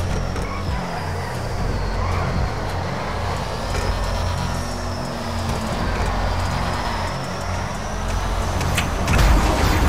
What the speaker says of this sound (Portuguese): Deixa eu acelerar.